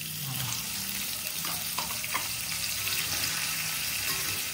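Tomatoes, stink beans and tuna sizzle and crackle steadily in a pan, a constant hiss of frying with a few scraping clinks and bubbling pops.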